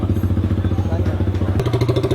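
Motorcycle running through a cafe racer aftermarket silencer, a loud close rapid chugging exhaust pulse at steady idle that lifts into a sharper, brighter rev partway through.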